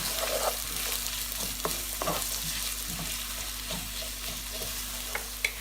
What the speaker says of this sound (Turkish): şimdi üzerine bir büyük baş soğanımızı ilave edip soğanımız pembeleşinceye kadar kavuralım